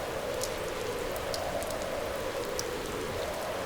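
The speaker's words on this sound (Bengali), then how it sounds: "কয়েকদিন ধরেই বৃষ্টি নেমে আছে" Steady rain falls in a continuous even hiss, moderately faint, with a few scattered louder drops on a surface and no voices.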